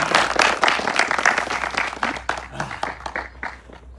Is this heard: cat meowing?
no